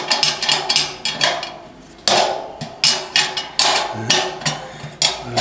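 Metal spanner clanks and taps in quick irregular bursts while bolts are tightened during satellite dish assembly, loud and close with sharp repeated strikes and short pauses.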